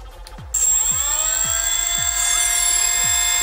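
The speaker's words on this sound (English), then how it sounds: "So you can hear the top motor's fine, and then you'll hear a delay before the bottom motor has any action." Nerf Barricade blaster with Valjean modification, flywheel motors spinning up with a loud steady whine after a sputtering start, the bottom motor stuttering and delayed with a rhythmic pulsing before catching up.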